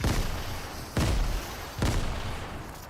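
Grenades exploding in Fortnite, three loud booming blasts in quick succession about a second apart, each with a sharp onset and a rumbling decay, fairly close.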